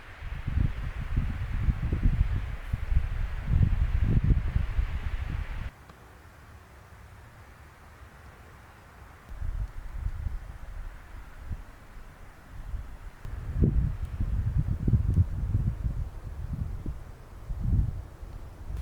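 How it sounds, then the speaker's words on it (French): Wind gusts through trees in surges at Crans-Montana, a low rushing swell that dies to near quiet mid-way before building again in uneven waves. "le bruit du vent dans les arbres"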